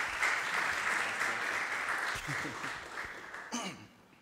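A crowd applauds a visiting pastor at a church event, a sustained bed of many hands clapping that gradually thins and fades, with a voice speaking briefly over the tail.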